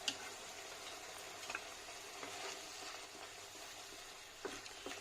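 Tomatoes sauté quietly in a pan for egg curry. A soft, steady sizzle carries on with a few faint utensil ticks and no talking.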